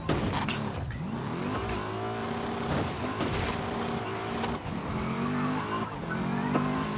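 Race car engines roar and rev in the racing video game GRID, several cars droning with rising and falling pitch and shifting gears, tires squealing briefly, a steady loud pack of motors with no talk.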